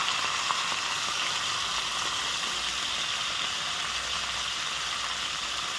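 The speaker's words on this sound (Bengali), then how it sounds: "কাতলা মাছের মাথা একটা তো মাথাটা ভেজে নিচ্ছি" A catla fish head fries in oil in a pan, giving a steady, even sizzle and crackle that holds at the same level from start to finish with no talk over it.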